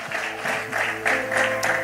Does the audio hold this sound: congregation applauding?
yes